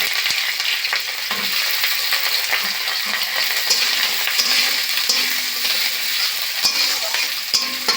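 Finely chopped onions frying in hot oil, a loud continuous hiss of sizzling with occasional stirring clicks, close and steady with no voices.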